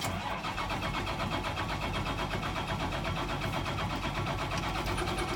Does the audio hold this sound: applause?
no